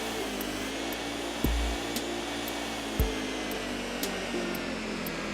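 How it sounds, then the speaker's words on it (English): Vacuum cleaner sucking up ghosts in the Luigi's Mansion video game, a steady loud airy whoosh that runs throughout, broken by a couple of deep thumps and soft repeating ticks. "we're using this vacuum cleaner here to suck up all kinds of ghosts"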